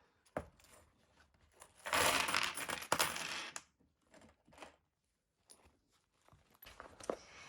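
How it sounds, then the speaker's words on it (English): Coins tipped out of a container onto a surface, a loud jangling cascade of metal clinking followed by scattered smaller clinks and shuffles as the pile settles, with no talking. "So I have a lot of coins. I don't know why or how, but so many coins for April. So I'm going to tip these out."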